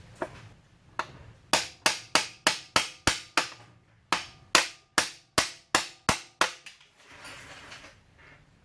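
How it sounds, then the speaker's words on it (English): A hammer pounds on a stuck starter on a 2009-2013 Honda Fit: sharp, loud metallic blows in quick, even runs of about eight strikes, a short pause, then another run, ending in a softer scrape. "I just had to keep prying and pounding on the top and the bottom until it loosened up"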